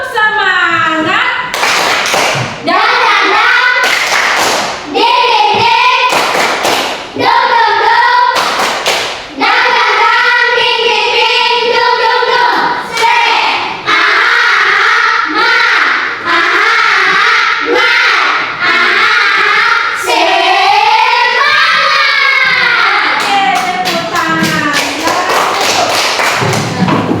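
A group of students stands and performs the rhythmic Indonesian spirit clap in a classroom: loud, patterned bursts of hand claps and thumps in a set rhythm, with children's voices chanting and calling along between the claps.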